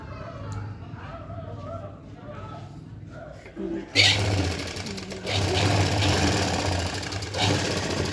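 A sewing machine runs with a steady close whirring clatter while stitching a designer blouse, starting partway in after quieter handling sounds, with someone talking over it.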